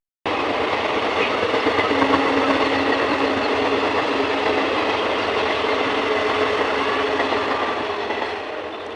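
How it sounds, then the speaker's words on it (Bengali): A Bhagirathi Express passenger train bound for Berhampore passes close by, a loud continuous rumble and clatter of wagons on the rails that holds steady for several seconds and eases slightly at the end. "ভাগীরথী এক্সপ্রেস এটা ভাগীরথী গেল বহরমপুরের ট্রেন"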